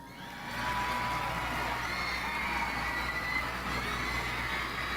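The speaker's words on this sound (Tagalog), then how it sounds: "Gusto kong marinig ang sigaw at palakpak ng mga gustong umuwi ng" A large crowd at a champions' homecoming event in General Santos City raises a steady, loud roar of cheering and shouting that holds unbroken for several seconds.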